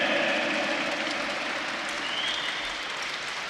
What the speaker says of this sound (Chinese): 掌声再送给我们最辛苦也服务我们20年的魏玉红老师